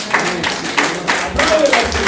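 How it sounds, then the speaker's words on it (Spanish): A church congregation claps together during a lively Spanish-language service, broadband bursts of applause rising and falling in several waves over a couple of seconds, fairly loud and close. "Si quieres aplaudir, aplaude al Señor."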